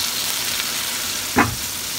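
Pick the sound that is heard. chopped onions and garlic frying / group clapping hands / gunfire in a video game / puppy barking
chopped onions and garlic frying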